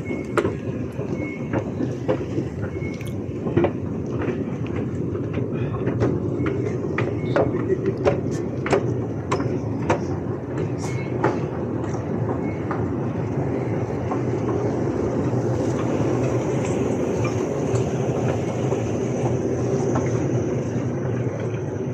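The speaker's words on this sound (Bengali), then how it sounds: "মালয়েশিয়া থেকেও অনেক গভীরে সিঙ্গাপুর এমআরটি।" A Singapore MRT metro train at Jalan Besar rumbles steadily at close range, with a dense low roar, repeated clicking rail joints and occasional sharp squeals running throughout.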